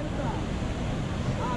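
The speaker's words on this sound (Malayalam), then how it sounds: "ഇതാണ് ഇവിടുത്തെ വെള്ളച്ചാട്ടം." Athirapally waterfall pours from a height onto rocks, a steady broadband roar heard from nearby with no pauses.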